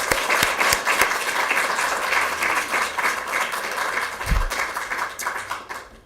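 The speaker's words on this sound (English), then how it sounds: "Let's give them another round of applause." Audience applause at a press conference at the state Capitol for students, an uneven patter of clapping that starts fuller and slowly thins, with a few sharp individual claps and a brief low thump.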